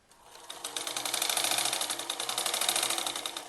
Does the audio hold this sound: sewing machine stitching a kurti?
yes